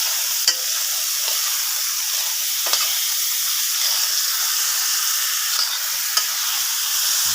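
Onion, garlic and ginger sauté in a hot pan, a steady bright sizzle throughout with occasional stirring clinks and spatula scrapes, close and continuous with no voices.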